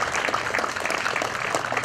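Applause at a religious homage to the Virgin of the Rosary, a crowd clapping steadily and fairly loudly throughout with individual claps popping out of the dense patter.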